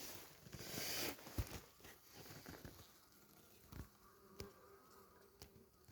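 Wasps buzz around a bottle wasp trap baited with sugar syrup, heard as a close, faint, wavering hum with small ticks and patters outdoors.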